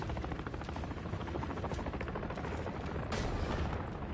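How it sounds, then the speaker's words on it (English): A helicopter in Call of Duty MW3 beats with rapid, steady rotor pulses, close and loud, with bursts of gunfire mixed in. "We'll make short work of that helo."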